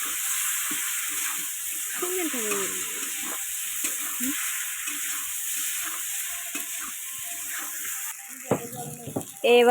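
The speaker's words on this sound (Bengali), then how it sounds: "এটা আমি এখন ভালো করে কষায় করে নেব" Potatoes with cumin powder sizzle quietly in a pan under a steady frying hiss, with scattered soft scrapes and a few sharper clanks near the end, while a voice murmurs faintly in the background.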